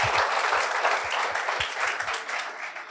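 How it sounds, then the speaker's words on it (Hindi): An audience in a hall applauds at a felicitation for a top civil services rank holder, a dense, continuous burst of clapping from many hands at moderate volume, with no talk over it. "इनके लिए भी एक जोरदार तालियों की प्रस्तुति करेंगे।"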